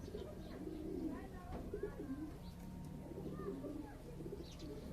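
Kass dar pigeons coo softly in repeated low, rolling calls close by, with faint background noise and a murmur of voices.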